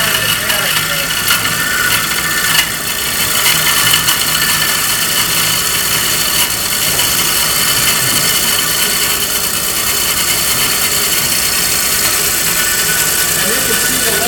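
A Laguna lathe turns a wooden column base pattern, making a steady, loud, broadband whir of motor and cutting noise that stays constant and close throughout.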